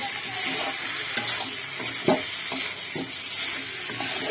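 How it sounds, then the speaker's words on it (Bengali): Fried prawns stirred into a potato and pointed gourd curry, a steady sizzling hiss with intermittent spoon scrapes and light knocks against the pan, no voices. "ভেজে রাখা চিংড়ি মাছগুলো দিয়ে দিলাম, খুব সুন্দরভাবে মিশিয়ে নেব"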